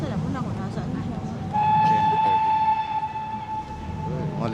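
Steam train departing, its whistle giving a long sustained blast over rumbling rail noise, with people talking nearby throughout.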